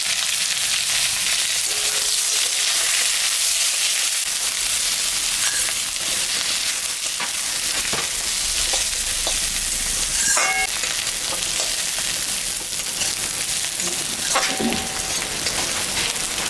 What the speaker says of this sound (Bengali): আলুটা ভাজা ভাজা হয়ে গেছে এখন আমি পেঁয়াজটা দিয়ে দিই